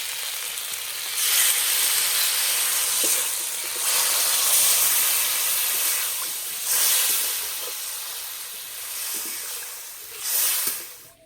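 Water poured into a hot pan of frying spices with turmeric bursts into a loud, steady sizzle and hiss. Sharper surges of steam rise and fade several times, close up and with no voices.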